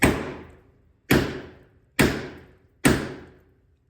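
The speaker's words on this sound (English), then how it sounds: "And knock it out with an old rusty, crusty bolt first." An old rusty bolt is hammered to knock out a VW Beetle door hinge pin, four hard metallic strikes spaced about a second apart, each ringing briefly and decaying, close and loud, with one short spoken word.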